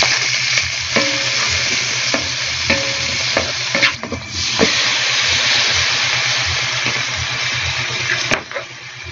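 Garlic, ginger, onion and chili fry in sizzling margarine in a pan, with a loud steady crackle and repeated scraping stirs throughout, no talking.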